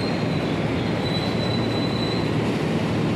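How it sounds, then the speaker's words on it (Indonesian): The Brawijaya executive passenger train rolls past close by in Indonesia, with loud continuous rumble, steady wheel squeal and a thin high screech throughout. "Kereta api Brawijaya, teman-teman."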